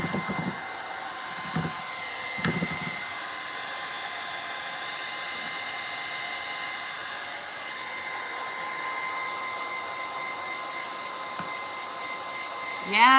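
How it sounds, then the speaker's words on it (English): A heat gun blows steadily to dry wet paint, a continuous close airy whine, with a few brief knocks and handling sounds early on. "when you have the paint kind of like drying with the heat gun"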